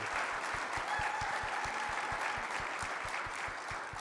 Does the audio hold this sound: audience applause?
yes